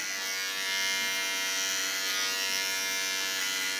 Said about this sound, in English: Going to the small clipper again.